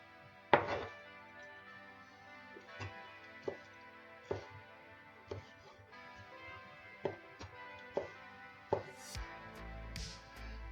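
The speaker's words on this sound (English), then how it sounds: "Look at me get slack with my chopping." A knife chops food for prawn balls on a board nearby, about a dozen sharp thunks at an uneven, unhurried pace with quiet pauses between.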